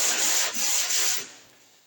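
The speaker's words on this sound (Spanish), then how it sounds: "No puedo lijar siempre en este sentido." Sandpaper is rubbed by hand across body filler in a few quick, close, raspy strokes that fade toward the end, with no talking.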